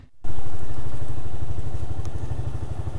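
A delivery motorcycle engine starts up abruptly after a brief silence and runs steadily up close, a loud low rhythmic chugging that holds for several seconds before a ride, with the fuel running low on reserve.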